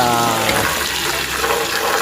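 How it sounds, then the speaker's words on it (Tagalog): Water poured into a container for cleaning solar panels, a loud close gushing splash running steadily, with someone talking over it. "So lalagyan natin ito ng tubig"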